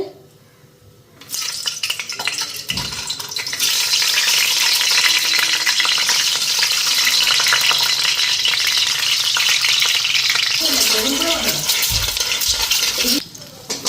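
Onion and potato frying in hot oil, with a loud, steady sizzle that rises after a short quiet start and continues densely, with occasional scraping stirs near the end.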